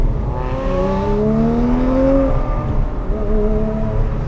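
Porsche 997 GT3 with a 4.0-liter flat-six and RS gear ratios accelerating, the engine note climbing steadily through a gear, dropping on a shift, then rising again, loud and close from inside the car.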